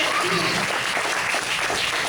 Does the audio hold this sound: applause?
yes